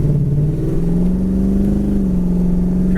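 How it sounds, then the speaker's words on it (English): A 1971 Dodge Charger accelerating on the road, its engine rising in a loud, close drone and easing through an upshift as it pulls. "Tranny shifts nice and easy there. Shifted again up to third."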